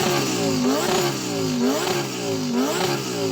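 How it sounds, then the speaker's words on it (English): A Lamborghini Huracan's 5.2-litre V10 engine revs up and down repeatedly, its pitch rising and falling in loud cycles close by. "what we'll do before we race is to rev up our engine"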